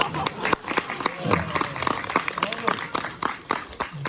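An audience at a community film festival talk claps in uneven bursts, while people speak over the applause.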